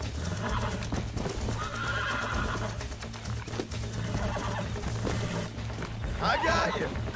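In the game Red Dead Redemption, a horse being broken neighs and hooves clop amid busy game sound effects and steady background music, with voices talking throughout.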